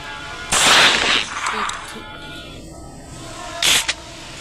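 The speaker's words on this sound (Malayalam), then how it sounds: "ഒരു ആചാര വെടി അങ്ങ് വെച്ചേക്കാം" Two sharp, loud gunshot blasts in the video game Granny: Chapter Two, the first with a longer crackling tail, the second short and clipped after a pause of a few seconds.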